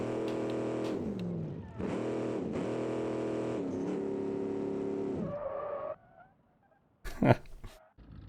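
A loud, sustained video game car engine roar in Automation and BeamNG, with rising and falling revs broken by short dips, then a brief screeching burst after a moment of near silence.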